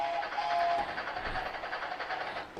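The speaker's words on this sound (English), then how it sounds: "Give me the choo-choo train real quick." A choo-choo train sound effect plays as a rolling, rumbling rail clatter with a brief whistle-like tone near the start, moderately loud and continuous with no talk over it.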